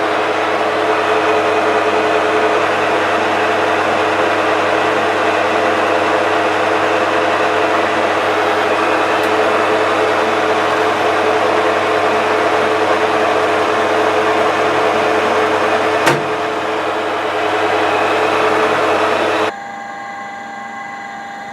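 A metal lathe runs a scratch pass while thread cutting at around 170 rpm, giving a steady mechanical whir with a faint tick near the end before it drops off.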